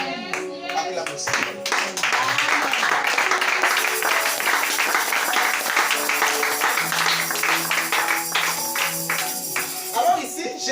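A church congregation breaks into sustained applause and acclamation, dense hand clapping that swells and holds for several seconds with voices mixed in.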